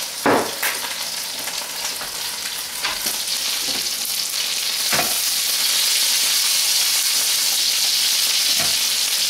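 Chicken on skewers sizzles and fries loudly in a hot pan, a steady broadband hiss with occasional sharper pops and crackles, heard close up with no talking.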